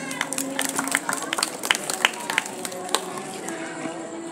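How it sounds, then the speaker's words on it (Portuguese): Outdoor Seventh-day Adventist congregation clapping on Rua Luiz Guimarães in Fortaleza, Ceará, Brazil: a loose burst of hand claps, moderately close, with a murmur of voices underneath. "Palmas para Jesus."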